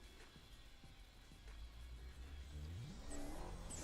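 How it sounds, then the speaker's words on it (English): A Buick T-Type car engine in a drag racing video game revs up with a rising whine and turbo hiss, building steadily louder over a few seconds. "You can hear that turbo."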